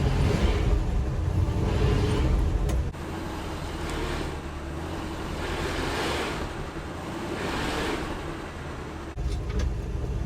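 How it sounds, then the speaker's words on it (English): A 1988 Chevy R30 truck spins its tires in low gear, giving a continuous loud roaring rush of engine and tire noise with swelling surges and heavy wind buffeting on the microphone. "That's all we're doing, spinning tires."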